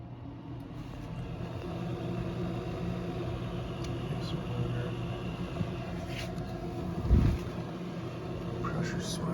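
A Coleman mobile home furnace blower that makes noises, running steadily after being switched back on, a constant droning hum with a few faint clicks, and someone talking over it.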